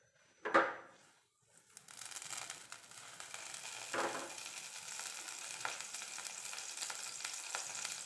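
Ginger, green chilli and garlic drop into hot coconut oil in a pan for a fish curry, giving a sharp burst then a steady close sizzle with a few stirring scrapes.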